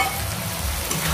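Mustard and poppy seed paste thinned with a little water frying in a pan for a bitter-gourd shukto, giving a short steady sizzle with a low bubbling undertone and no voices.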